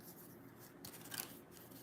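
Tarot cards being shuffled by hand make a soft, faint papery rubbing and riffling that runs steadily for a couple of seconds, with one slightly louder brush near the end and no voices.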